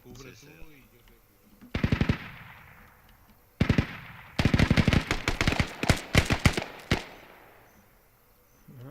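Video game gunfire during a match, with rapid bursts of automatic shots and single cracks arriving in clusters of varying loudness, some close and some farther off, and a voice talking faintly in the background.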